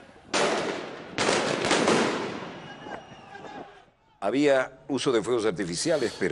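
Fireworks set off during riots in Jerusalem, with two loud crackling bursts close together that fade out, followed by someone speaking.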